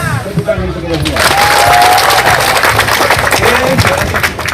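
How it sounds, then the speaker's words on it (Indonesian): Outdoor crowd of PON 2028 athletes at a car-free-day briefing breaking into loud, sustained clapping and some cheering, with voices shouting through it. "Tepuk tangan untuk kita semua."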